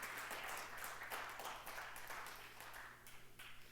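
A church congregation at a Sunday service applauds, a steady wash of many hands clapping together at moderate distance, with no voices over it.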